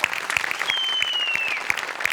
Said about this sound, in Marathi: प्रसाद खांडेकर साठी जोरदार टाळ्या